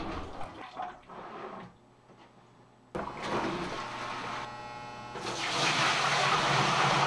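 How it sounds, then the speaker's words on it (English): Hot water pours into the tub of a wringer washer, a rushing, splashing flow that starts, pauses briefly, then resumes and swells louder and steadier toward the end, with no talking. "When it's time to wash, I fill the tub with hot water."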